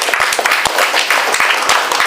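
An audience claps steadily for Rakshak at a gathering in an ashram, a dense crowd applause sustained and fairly loud throughout with no voices over it.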